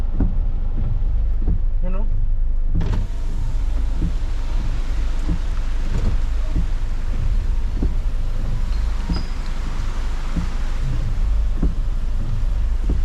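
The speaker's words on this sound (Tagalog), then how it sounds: "Ang ulan, ang lakas oh." Heavy rain pounding down amid street flooding, a dense continuous roar that swells sharply after a few seconds, with a person talking over it and vehicle rumble beneath.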